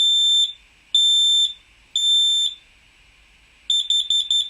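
A smoke alarm with voice warnings sounds three loud, evenly spaced long beeps, the fire alarm pattern, followed by a rapid cluster of shorter chirps; no clear speech is audible.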